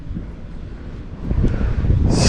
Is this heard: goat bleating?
no